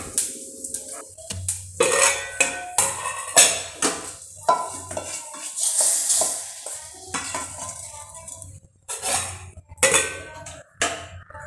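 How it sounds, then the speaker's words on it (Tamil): Fenugreek seeds and a pinch of asafoetida drop into hot oil for tempering paruppu sambar, with bright sizzling and repeated rhythmic clanks of a ladle stirring in the pan, loud and close. "இப்போ அதே எண்ணெயில் வெந்தயம் போட்டுக்கலாம்."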